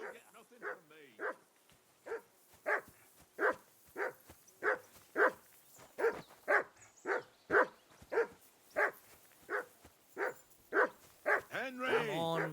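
A dog in the Kingdom Come Deliverance video game barks repeatedly in a steady run of about twenty evenly spaced, moderately close barks, with a voice speaking briefly at the end.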